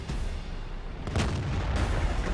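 Tank cannon fire in a tank video game match, a dull booming blast around the midpoint over continuous rumbling battle noise, loud and heavy with no clear separate shots afterward.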